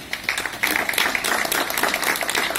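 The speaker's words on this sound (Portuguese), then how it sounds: "Vamos receber o nobre colega com uma salva de palmas." A round of applause at a psychoanalysis and human rights defenders graduation ceremony, the standing audience clapping steadily and densely throughout, loud and sustained with no talk.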